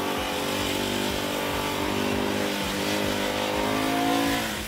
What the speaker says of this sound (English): The 650cc single is quite peppy and it loves to be revved hard.